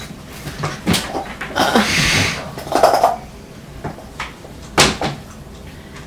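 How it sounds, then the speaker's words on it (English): A puppy knocks objects over indoors, with several loud close clattering thumps and knocks of household items tumbling and clinking, scattered over steady room noise. "we have the puppy in here with us and he's knocking stuff over"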